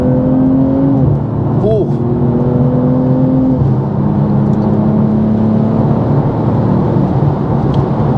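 BMW M240i G42 with a ZF eight-speed automatic kicking down and accelerating hard, the engine note rising loud and close through a quick shift and then droning on, with a brief exclamation from an occupant.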